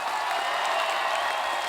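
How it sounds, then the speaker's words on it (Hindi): Studio audience applause greeting Akshay Kumar, Nora Fatehi, Disha Patani, Mouni Roy and Sonam Bajwa on The Kapil Sharma Show, a dense, steady wash of clapping and crowd noise that fills the whole moment at even loudness. "तो आप सबकी जोरदार तालियों के साथ please welcome the entertainers tour से"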